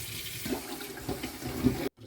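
Tap water runs steadily while a pot is rinsed after draining it during preparation of kholodets, a Ukrainian meat aspic, then cuts off abruptly near the end.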